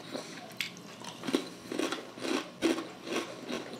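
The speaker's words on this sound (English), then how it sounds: "Wow, crunchy, very super crunchy chip." Close crunching bites into crinkle-cut cheddar cheese potato chips, about seven sharp crunches in an irregular chewing rhythm with no talk.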